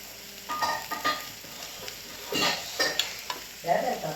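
Chopped cucumber tipped into a hot pan and stirred, giving a quiet, sizzling fry broken by several scraping stir strokes in irregular bursts, with no voices.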